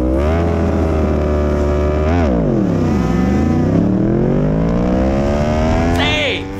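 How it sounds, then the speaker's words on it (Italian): A motorcycle launches hard off the line at a race start, the engine revving high, dipping through a gear change and climbing again, loud and close throughout with wind and road noise underneath. "finalmente ho imparato a partire anche in moto."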